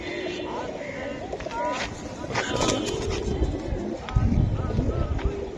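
Pet pigeons, a pair of red-eyed cock and hen birds of a Bangladeshi tumbler breed, coo softly and repeatedly among loose chatter, with people talking over them throughout.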